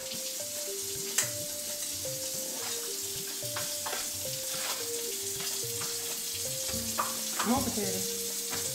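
Potatoes and asparagus fry in a pan as they are stirred, giving a steady close sizzle with scraping and clinking from the utensil, while background music plays and a voice briefly speaks.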